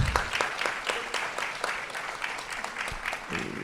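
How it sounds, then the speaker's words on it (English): Audience at an annual meeting applauding board members who stand to be recognized; steady dense clapping from many hands, fairly close, continuing throughout without talk. "let's give a big round of applause"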